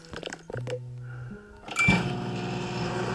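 A microwave oven in an animal hospital video game starts up after a few short clicks and a low tone, then settles into a loud, steady electric hum that runs to the end.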